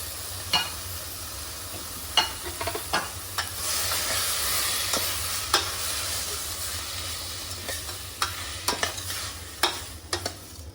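Washed basmati rice being stirred into a one pot meal in a pan, with a soft sizzle and scattered spoon scrapes and knocks at irregular intervals throughout, no talking.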